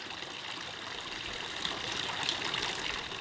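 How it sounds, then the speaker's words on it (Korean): Water trickles and splashes steadily into a stone trough at a quiet mountain temple hermitage, a continuous bright, close flow with no voices. "인적 드문 산사의 정적을 깨우는 것은 수각의 물소리뿐."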